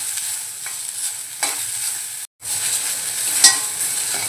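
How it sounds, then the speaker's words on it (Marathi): Onion sautéing in a spoonful of oil in a pan, a steady bright sizzle with occasional stirring scrapes and a brief gap midway, close and alone without talk. "एक छोटा चमचा तेल, आणि कांदा परतवून घेऊया।"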